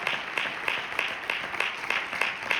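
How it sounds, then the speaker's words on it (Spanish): Congregation clapping in offering to the Lord during a church sermon, a fairly steady rhythmic beat of many hands with regular accents, moderately loud and without speech over it. "Denle su ofrenda de palmas al Señor si usted quiere"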